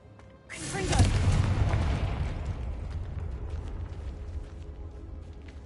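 A single loud magical blast from the Confringo spell in Hogwarts Legacy, a sudden boom with a long rumbling decay fading over several seconds.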